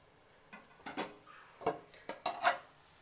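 A lid set on a pot of green onion and potato curry, a few close metallic clinks and taps of metal on metal, spaced out and fairly quiet.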